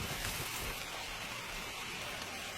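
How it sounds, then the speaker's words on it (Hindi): Steady rain falling in the Amazon jungle, a dense even hiss of drops on surfaces with no voices, constant in level throughout. "जब बादल अब और नहीं झेल सकते तो आसमानी नदी बारिश में तब्दील हो जाती है।"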